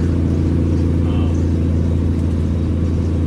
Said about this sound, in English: Driving an old truck.